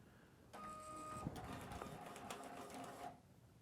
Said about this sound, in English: And I'm going to print 5, meaning 5 serial numbers.